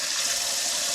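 Cold water gushes hard and steady from a household tap, filling the clip with a loud, hissing rush. No one talks.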